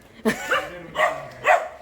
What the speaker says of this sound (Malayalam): ആ വീരു കുരയ്ക്കുന്നു